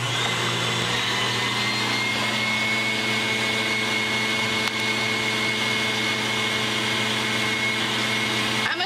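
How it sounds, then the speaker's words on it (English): An electric mixer on high speed beats egg whites for a chocolate cream pie, giving a steady, loud, unbroken motor whine close by with no talking over it. "we're going to turn up our egg whites and start beating those on high"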